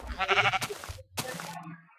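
A sheep in Minecraft bleats loudly and close, a wavering nasal call followed by a second bleat after a short gap, with no talking over it.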